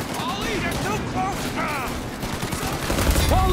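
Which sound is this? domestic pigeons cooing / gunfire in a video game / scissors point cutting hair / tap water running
gunfire in a video game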